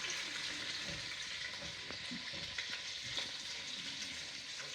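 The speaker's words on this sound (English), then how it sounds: "you can come and show the onions as they're simmering" Onions softening in a pan for Maltese kapponata give off a steady, fairly quiet sizzle and bubble, with soft scattered ticks and crackles throughout and no talking.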